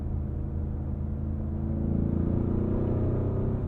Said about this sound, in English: I love the throatiness of that exhaust note.